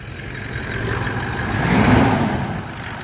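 A car engine in a rev test of an oil catch can setup holds a steady mid-range drone that swells to a louder peak near the middle and then eases back down, with no talking.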